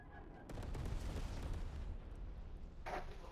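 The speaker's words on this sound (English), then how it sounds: "Enemy napalm strike incoming." Napalm strike in the video game Call of Duty: Black Ops Cold War during a capture-the-flag match, a deep rumbling roar of fire and blasts building after a quiet start and holding steady, with a brief sharper burst near the end.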